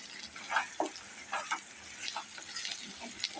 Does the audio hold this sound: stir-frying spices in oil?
yes